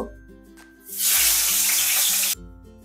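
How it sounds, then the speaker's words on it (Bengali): Prawns dropped into hot mustard oil in a wok burst into a loud, hissing sizzle that holds steady for about a second and a half over soft background music, then stops abruptly. "মাছগুলোকে লাল লাল করে ভেজে নেব।"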